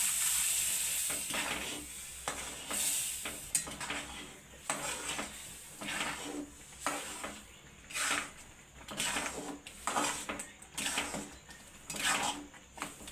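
Peanuts sizzle in hot oil in a pan while rava prasad is cooked, a steady hiss broken by repeated stirring and scraping of a spoon against the pan.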